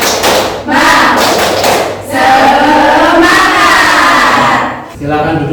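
An Indonesian audience performing a rhythmic spirit clap, tepuk semangat, standing up: loud, close bursts of unison clapping and thumps broken by brief gaps, mixed with crowd shouts and chanting voices.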